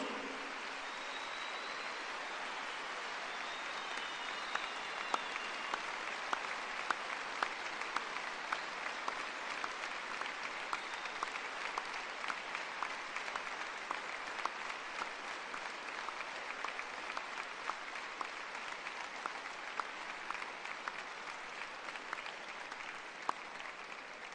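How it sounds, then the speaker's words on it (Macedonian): Long, sustained applause from a large crowd at a national political rally in Skopje, dense and even clapping that holds steady for over twenty seconds, heard from a distance with no talk over it. "да им дадеме сите еден голем аплауз"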